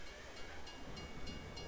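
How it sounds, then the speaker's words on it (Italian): A video game train rumbles past with a steady low roar and faint rhythmic clacking, fairly quiet and distant. "Casualmente c'è passato un treno sopra."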